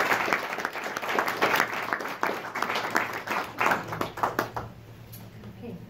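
An audience at a voters forum for Princeton mayoral candidates claps to welcome a speaker, a moderate burst of applause from a modest crowd that thins out and fades after about five seconds.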